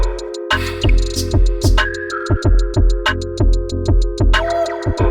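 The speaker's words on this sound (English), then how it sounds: "It all started with this complicated loop that sounds like this." A complicated electronic song loop played on an OPXY synthesizer, with punchy repeating bass thumps, clicky percussive ticks and tonal synth lines in a steady driving rhythm, loud and close.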